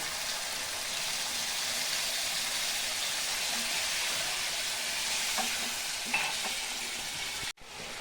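Kadai paneer masala sizzles in a pan, a loud, close, steady hiss of frying, briefly cut off near the end as hot water is added.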